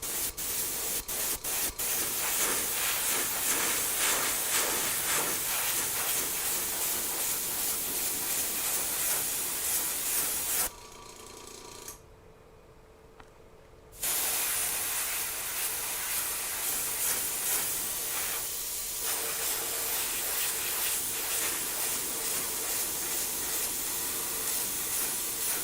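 An airbrush sprays a coat of Alpha Air paint in a steady, close hiss. It pauses for a few seconds partway through, then resumes with the same even spray.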